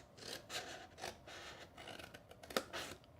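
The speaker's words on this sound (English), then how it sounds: "I'm gonna cut right down the middle." Scissors snipping through scored paper for a shadow box, a few soft rhythmic cuts with papery rasping, close and quiet, no talking.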